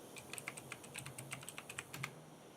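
Quick, light keystrokes on a computer keyboard tap out a short burst of typing, close and fairly quiet, about a dozen clicks in an uneven rhythm with no voices.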